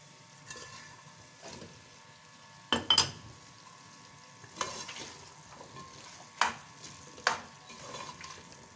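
Potatoes are stirred into keema frying in a pan, with soft continuous sizzling broken by several sharp scraping clatters of a spoon against the pan, fairly close and with no voices.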